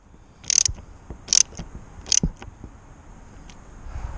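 A ratchet tightens slightly loose bolts on an Airstream door, three short bursts of quick clicking spaced under a second apart, close and clear against a quiet background.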